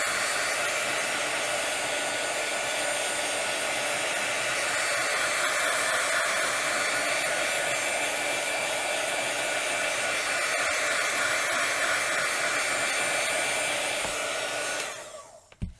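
A heat gun blows a loud, steady hot-air roar close by while drying mixed media craft cards, running unbroken for about fifteen seconds before switching off at the end.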